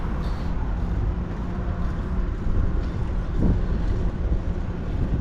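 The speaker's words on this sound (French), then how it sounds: "le vent dans le dos" Wind rushes steadily across the microphone in a low, continuous roar, swelling now and then into stronger gusts, blowing from behind a cyclist at the Passage du Gois.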